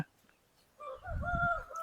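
A Bhimavaram breed chicken, heard among a mother hen and her chicks, gives one short crowing call near the end after a quiet start, close and clear.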